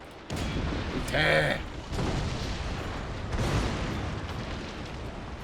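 Cannon fire from Shogun 2 Total War, point-blank explosive rounds: a loud booming blast with a bright tonal burst, set among ongoing battle noise while someone talks briefly.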